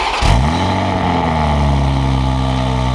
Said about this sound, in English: This is the first startup, but the valves are closed.